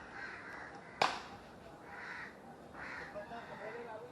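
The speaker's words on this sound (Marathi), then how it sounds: "हा बघा कावळा काकाने काढला आहे" A crow tangled in kite string gives a few hoarse caws, spaced about a second apart, over a background hiss, with one sharp knock early on.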